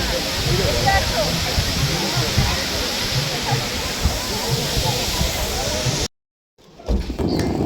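A waterfall near Gangtok roars as a steady, dense rush of falling water, loud and continuous, then cuts off abruptly before a faint return of noise.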